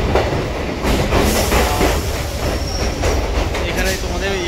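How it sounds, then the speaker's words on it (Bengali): A Kolkata Circular Railway local train rolls into Kolkata station, a steady loud rumble of wheels and carriages with clattering track noise and brief high squeals of braking wheels throughout. "আমাদের ট্রেন কিন্তু চলে আসলো কলকাতা স্টেশন দেখো"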